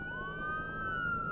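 An ambulance siren wails steadily at a moderate distance during live coverage of an active shooter scene in San Bernardino, with a low rumble of traffic underneath.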